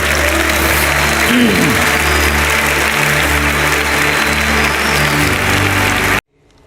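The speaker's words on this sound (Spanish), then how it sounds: "Dale fuerte ese aplauso al Señor." A church congregation claps loudly during worship, a dense, loud wash of applause with tonal hum and music-like tones underneath, cutting off abruptly near the end.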